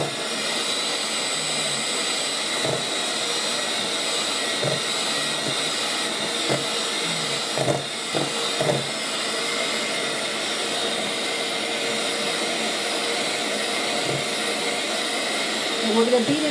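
Electric mixer on slow speed mixing cupcake batter in a home kitchen, a steady whirring hum running throughout with faint clatter, under occasional quiet talk.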